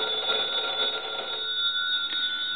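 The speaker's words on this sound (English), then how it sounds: "That is just a very cool ring." A Western Electric bell box telephone rings steadily, its metal bells giving a loud, sustained, shimmering jangle close by, with a brief bright accent near the end and no voices.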